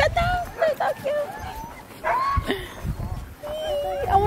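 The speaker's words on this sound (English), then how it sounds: "And look at the little huskies." Husky sled dogs bark and yip repeatedly at a Finnish dog sledding site, close and lively, with a person talking over them.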